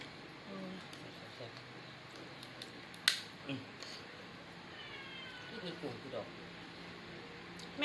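A cat meows faintly a few times among quiet room sounds, with people talking and small clicks and taps nearby.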